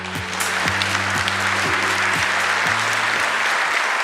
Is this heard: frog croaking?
no